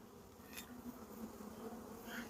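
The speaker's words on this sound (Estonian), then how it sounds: "Aga natuke kui käega nagu liikuda vähe, siis ikkagi lendavad tarust välja." Honey bees leaving a calm colony's hive during a spring inspection, a soft, steady buzzing swarm with individual bees zipping close past, quiet and without talk.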